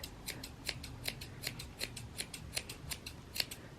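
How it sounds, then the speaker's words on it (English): Scissors snip rapidly and repeatedly through a clump of cosplay stuffing, about a dozen crisp, close metallic cuts in an uneven rhythm with no talk. "I would take a clump of it and just attack it with my scissors like this."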